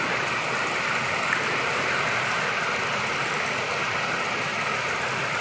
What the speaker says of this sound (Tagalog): malakas ang tubig, umaagos ang tubig